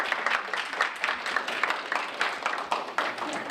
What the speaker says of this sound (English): Applause filled the room as Jeff Walker returned to CHI Health St. El